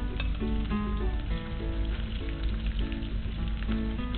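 Stuffed chicken sizzles on a grill with a little oil, making a steady, soft crackle that runs throughout, partly under background music.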